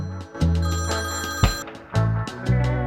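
A telephone rings close by in quick repeated bursts, its bright electronic tone pulsing on and off with no one speaking.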